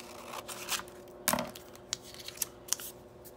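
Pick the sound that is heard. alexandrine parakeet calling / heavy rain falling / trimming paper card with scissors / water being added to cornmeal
trimming paper card with scissors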